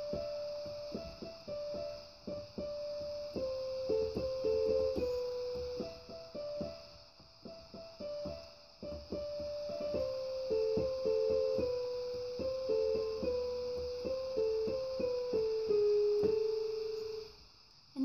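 An organ plays the melody of a piece with the right hand only, a single line of sustained notes moving stepwise and ending on a long held tone, with a faint steady hum underneath.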